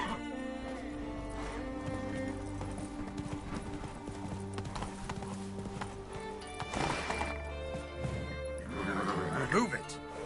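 Hoofbeats of a horse galloping in The Witcher video game, a steady clip-clop rhythm throughout with occasional whinnies, layered under game music and a voice urging the horse on.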